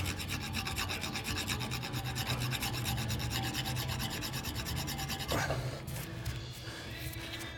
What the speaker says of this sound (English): just file it down until you get that bevel back in it